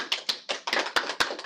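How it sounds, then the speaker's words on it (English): Sparse applause from a small audience for the presenters of a modeling law talk, a few distinct sharp claps in an uneven rhythm, close and moderately loud, with no talking. "Let's have a big round of applause."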